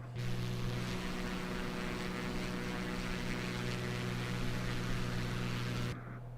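A Beechcraft V35B propeller aircraft on a flight from Baltimore to Philadelphia drones with a steady, close engine and propeller hum and strong tonal harmonics, then cuts off abruptly near the end.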